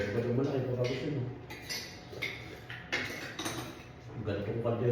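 A cooking pot being handled in a kitchen, with several close metallic clanks and scrapes of pots and cutlery spaced irregularly under people talking.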